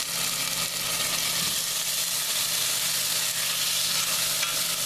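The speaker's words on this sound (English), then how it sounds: "We're going to put in a spoon of garlic." A spoonful of garlic frying in a pan while cooking cabbage, a steady loud broadband sizzle that holds unbroken throughout, close up with no talk.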